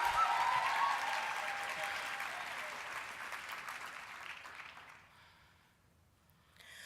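Audience applause at a Destiny Arts Junior Company youth dance performance, dense and sustained for about five seconds before fading to near quiet, with a brief swell of clapping returning at the very end.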